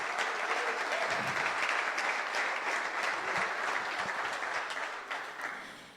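A large church congregation claps continuously in a dense, sustained wash of applause that holds steady and then begins to fade near the end.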